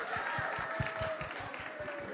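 Audience at a TV serial's anniversary celebration breaks into applause, a moderately quiet, rhythmic patter of claps with a faint tone running under it.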